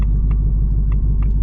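A car rushes past fast, giving a heavy, steady low rumble of engine and road noise with faint higher clicks on top, loud and close throughout the brief moment, with no talking.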